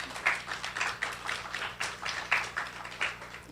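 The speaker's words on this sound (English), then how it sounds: "A round of applause, please." An audience at a conference introduction claps in steady, rhythmic bursts, a moderate crowd sound with a faint hum beneath, continuing evenly throughout.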